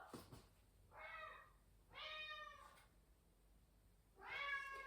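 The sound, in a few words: cat meowing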